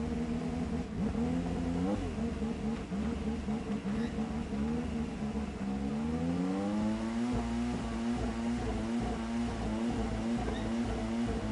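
A Peugeot car engine in the Gran Turismo 7 racing game revs hard and steadily, its whining tone dipping and then climbing again as it over-revs, a continuous loud drone heard without talk.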